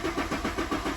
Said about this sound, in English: I'm just going to turn the car on. We'll try and start it.